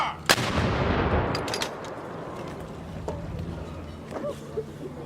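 Historical artillery cannon fire at an outdoor demonstration: one sharp, loud blast near the start with a long rumbling decay, followed by fainter cracks and ambient noise.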